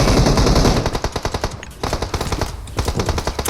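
Automatic gunfire in PUBG Mobile, loud rapid bursts of shots firing in quick regular rhythm with a short pause midway, close and dominant throughout.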